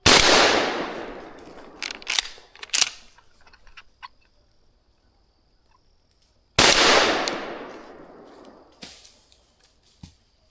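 Two loud, close shotgun blasts fired at a squirrel while hunting, several seconds apart, each followed by a decaying echo and scattered crackling of debris in the woods.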